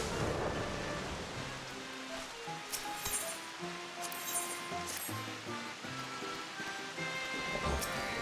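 Rain falling during a thunderstorm in Final Fantasy XIV, as steady patter mixed with clinking tones and soft game music, moderately quiet, with no one talking.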